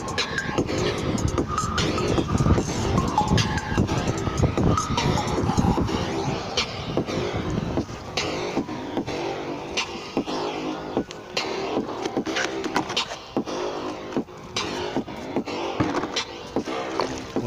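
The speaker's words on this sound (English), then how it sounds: "Scrub the car thoroughly with the sponge" A sponge scrubs a car during a hand wash, making continuous close, rough swishing with scattered small knocks and clicks throughout. No one speaks.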